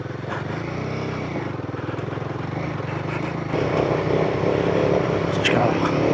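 A motorbike engine putters steadily in first gear on a rocky uphill trail on Mt Terrible, with a constant throbbing drone that swells slightly louder partway through.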